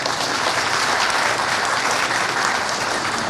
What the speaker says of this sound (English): give yourself a round of applause for making it to this event